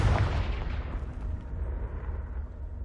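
Confringo fire spell blast in the video game Hogwarts Legacy, a loud deep booming explosion that hits at once and rumbles on steadily for a few seconds.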